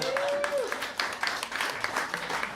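A comedy-club audience claps in scattered bursts at a late-night stand-up show, the applause patchy and fairly faint, with a brief tone sliding down near the start.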